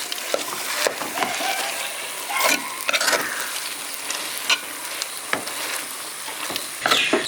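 Thick Tirunelveli halwa with cashews being stirred and cooked over a low flame, a steady close-up sizzle broken by repeated scraping stir strokes and soft bubbling pops, with no voices.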